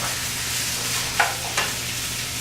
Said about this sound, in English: Our shrimp is starting to turn, so you have to keep turning it so it won't burn on you.